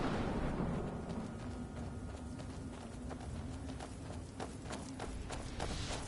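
Horse hooves clip-clop in Skyrim, a steady run of faint, evenly spaced knocks over a continuous low rumble of game ambience.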